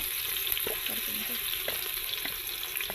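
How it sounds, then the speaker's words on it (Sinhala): Ginger garlic paste frying in hot oil for Sri Lankan chicken koththu, a steady bright sizzle with faint bubbling crackles over the constant hiss, close and unbroken. "තෙල් ටික රත් වෙනකොට ඉඟුරු සුදු ලුණු තලාගත් පේස්ට් එක එකතු කර ගන්න ඕන."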